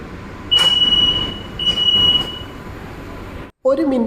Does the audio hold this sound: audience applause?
no